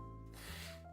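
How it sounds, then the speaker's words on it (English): Someone suffering from allergies and blocked sinuses blows their nose in one short, breathy, honking burst, fairly quiet and close, with no talking. "I gotta blow my nose again."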